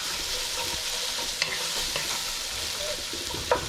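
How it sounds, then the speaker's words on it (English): Onions being stirred in a pot with oil and meat juices while cooking an Italian Sunday tomato sauce, a steady close sizzle broken by a few sharp scrapes and clinks of the utensil. "So we're gonna stir the onions around in here like this."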